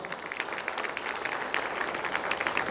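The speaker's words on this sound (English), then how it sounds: "Let's give him a big round of applause." An audience at a lifetime achievement awards event applauds the mayor, with dense, continuous clapping from a crowd heard at a moderate distance, fairly soft and steady throughout.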